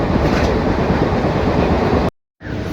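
A Mumbai local train running, heard from inside as a loud, continuous rumbling clatter that cuts out abruptly for a moment near the end.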